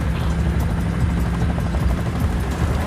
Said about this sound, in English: That chopper's gunning for us, Rico.